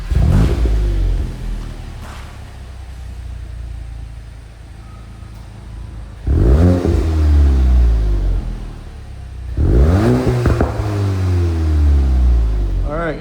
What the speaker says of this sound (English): what a stock GTI sounds like